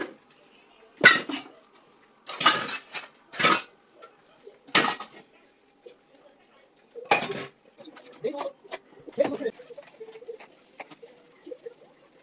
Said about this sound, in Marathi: आता मी पटापट भांडी घासून घेते